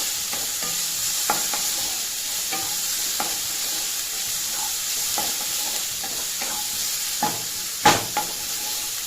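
Onions sautéed on high flame for a capsicum thuvayal, a constant soft sizzle under repeated clicks and scrapes of a spoon stirring in the pan, with one louder clatter near the end.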